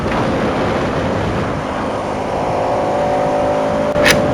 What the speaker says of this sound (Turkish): traktör sesi gelmeye başladı yerden bir saniye